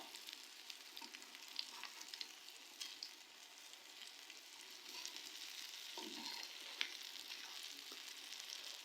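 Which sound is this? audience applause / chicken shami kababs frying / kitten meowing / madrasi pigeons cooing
chicken shami kababs frying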